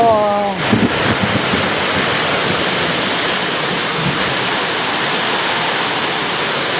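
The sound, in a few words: heavy rain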